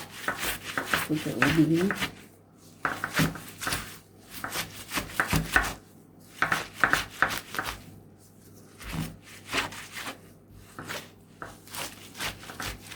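Washed cassava leaves rubbed and crushed by hand in short bursts of dry rustling and scrunching, close up, with pauses and someone talking between them.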